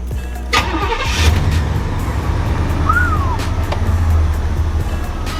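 The engine of a Box Chevy Caprice cranks and catches, then settles into a loud, rumbling idle close by, with a quick chirp partway through.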